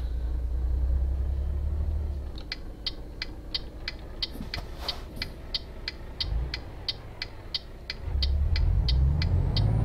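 A 600-horsepower truck in Euro Truck Simulator gives a deep engine rumble at the start and end, and a quick, steady mechanical ticking runs through the quieter middle stretch.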